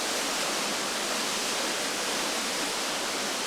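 Progonat waterfall in Albania, a stream tumbling down rocky steps, heard as a dense, constant roar of rushing water, close and steady with no other sounds.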